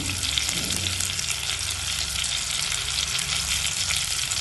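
Mustard seeds crackle and sizzle in hot oil for a Jaffna-style fish curry, a loud, continuous, close-up hiss with fine popping throughout.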